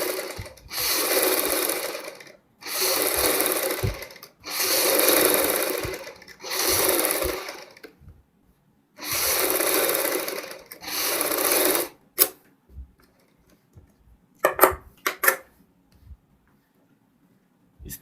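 A sewing machine stitches a strip onto a child's fancy dress in several loud bursts of steady whirring separated by short pauses, then gives way to a few brief clicks and taps near the end.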